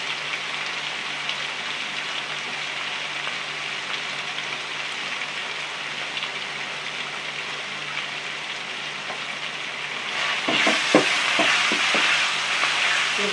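Onions sautéing in a pan for tomato chutney give a steady, dense sizzle close up, with a burst of scraping stirs near the end.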